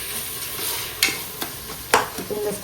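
Tomatoes sautéing in a pan with a steady sizzle and several sharp spatula scrapes and clinks as they are stirred, close and fairly loud, with no speech.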